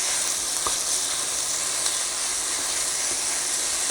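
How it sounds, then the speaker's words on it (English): Ground turkey sizzles in a hot pan as it crisps, a dense, steady hiss of frying fat that stays close and even throughout, with no talking over it. "I'm going to just let this turkey crisp up a little bit"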